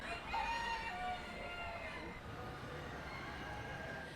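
Chickens at an animal show pavilion cluck and crow at a distance, a rooster's call rising early and fading into soft, steady barnyard noise, with a voice speaking over it.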